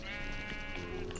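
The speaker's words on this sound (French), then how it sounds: "Ah, encore un mouton." A sheep in the Minecraft video game bleats with a wavering, buzzy call, loud and close, with soft game sounds behind it.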